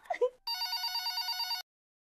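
A telephone bell rings once in a domestic TV drama scene, a bright electronic trill of rapid pulses lasting about a second, heard just after a brief spoken word.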